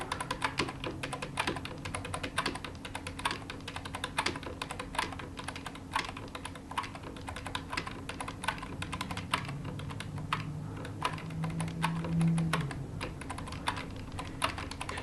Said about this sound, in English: You can use your keyboard to advance the keys.